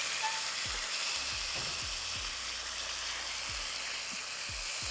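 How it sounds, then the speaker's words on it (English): Blackened mahi mahi fillets sizzling in a hot pan just after being flipped, a steady close hiss with a few soft low knocks and no talking. "It's time to flip our mahi mahi. So let's do it. Flip them over."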